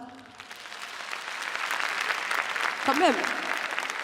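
Audience applause fills a French comedy show hall, steady and building over about four seconds, with a voice briefly speaking over it near the end.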